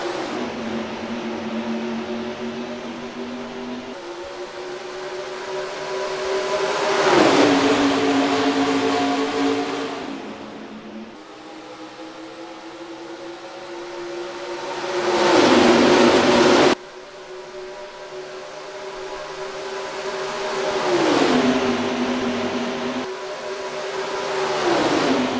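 Race car engines roar at Las Vegas Motor Speedway in NASCAR Racing 2003, a loud steady drone that rises in pitch as cars accelerate, then drops sharply at each gear shift, repeating over and over.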